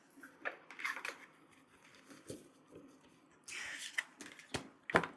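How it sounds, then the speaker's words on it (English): Paper tarot guide sheet being folded, with soft crinkles and taps of the sheet and a brief louder rustle near the end, quiet and close, no talking. "let me just fold this up and put that to the side."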